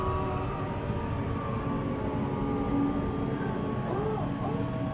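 Inside an LRT Jakarta light rail car, a steady rumbling drone of running gear and motor fills the cabin. Faint tonal whines rise and fall through the constant noise.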